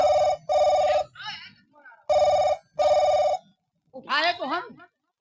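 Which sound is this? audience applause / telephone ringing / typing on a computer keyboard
telephone ringing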